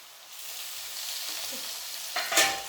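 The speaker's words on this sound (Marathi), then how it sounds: "कांदा आता जरा चांगला भाजलाय तर आपण हे लसूण आणि मिरची टाकूया" Garlic and chilli hit a pan of browned onions, giving a steady close sizzle that swells with a louder crackle near the end, with no talking.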